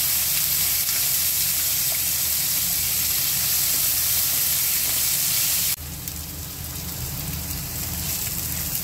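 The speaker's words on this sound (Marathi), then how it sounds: "पुन्हा 1-2 मिनटं कांदा छान परतवून घेऊया." Chopped onion fries in a pan for a Marathi bhindi aloo sabzi, a steady broadband sizzle throughout, close and loud, with a slight drop in level partway through as the onion is stirred.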